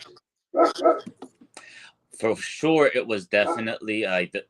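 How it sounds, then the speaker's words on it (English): A dog barks in a home during a live interview, short sharp yips mixed in with a person talking nearby, the barking partly masked by the speech. "Sorry, that's my dog."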